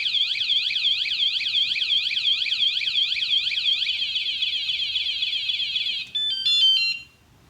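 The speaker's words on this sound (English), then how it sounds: "If they mess with it again, the alarm goes off." A loud, continuous electronic alarm from a Seatylock FoldyLock Compact folding bike lock wails in rapid warbling pulses, then shifts to a steady tone and ends with a few higher chirps.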